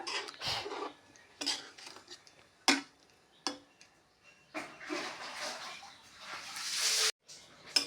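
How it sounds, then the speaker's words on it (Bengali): A curry with kasuri methi, mango, drumstick, green chili, potato and fish being stirred in a pan, with intermittent close scrapes and metallic clinks of the utensil against the pan. "কচুরি মেথি দিয়ে এখন নেড়ে নিচ্ছি।"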